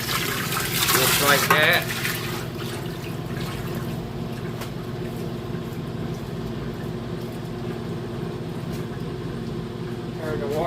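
Water runs and splashes while rinsing out the tub of an old wringer washing machine, with a louder gush at first settling into a steady trickle as someone briefly talks nearby.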